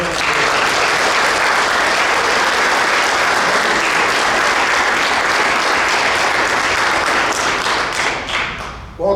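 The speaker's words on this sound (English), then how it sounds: "Let us give a warm round of applause for all of the family and friends." An audience at a university commencement ceremony applauds family and friends of the graduates, loud dense clapping that holds steady throughout and fades slightly at the end.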